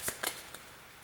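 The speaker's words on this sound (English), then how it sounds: "So we're shuffling up our supplemental cards that are available." A deck of supplemental cards for a German solo wargame turn is shuffled by hand, giving two or three quick papery riffling bursts up close in a quiet room.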